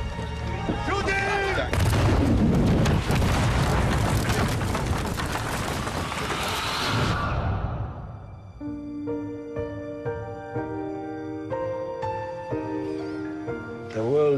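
Loud, dense gunfire in a dramatized Armenian Genocide film scene crackles with booming shots for several seconds, then fades into a quiet musical score.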